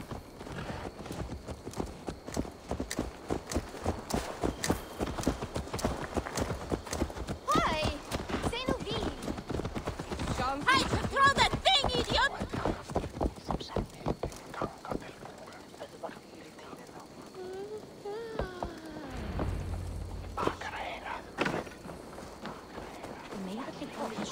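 Horse hooves clip-clop in a steady, rapid rhythm for a long stretch in the video game Assassin's Creed Valhalla, with speech and game sounds mixed in and a brief duck-like quack.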